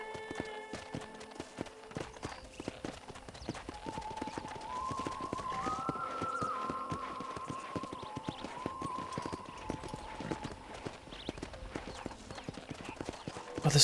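Rapid hoofbeats of a horse galloping across a ranch in the Western video game Red Dead Redemption, a fast continuous clip-clop rhythm under background music, closing with a sharp burst.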